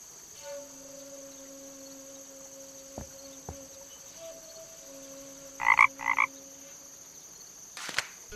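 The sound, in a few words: frog croaking in video game The Night of the Rabbit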